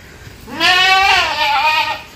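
A goat on a goat farm in Lahore gives one loud, close, wavering bleat lasting over a second, alone with little background noise.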